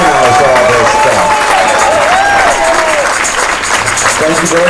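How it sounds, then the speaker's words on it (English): A room full of people applauds the host at the close of a small live show, steady clapping mixed with a crowd murmur and some talking over it, fairly loud and continuous. "we'd like to hear a big round of applause for Heather"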